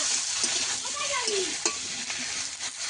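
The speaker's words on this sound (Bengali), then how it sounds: "এই মাছ ভাজার তেলটার মধ্যেই আমি রান্নাটা করব। এই চিচিঙ্গিগুলো আগে ভেজে নেব।" Snake gourd frying in leftover hilsa fish oil, a steady close sizzle with scraping stirs of a spatula through the pan, no voices.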